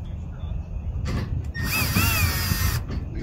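A power drill drives screws into a bed divider in a 2023 Toyota Tundra truck bed, giving a short, near whirring burst with a rising squeal lasting about a second.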